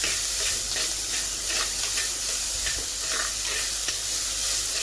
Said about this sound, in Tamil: இப்போ உள்ளி வதக்கிக்கலாம்.